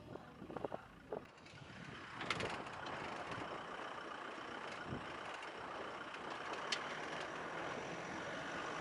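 Vehicle driving along a mountain road toward Hanle across the More Plains, a steady engine and road roar at moderate level, with a few brief knocks and clicks at the start.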